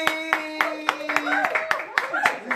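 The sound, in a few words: round of applause welcoming radio show guests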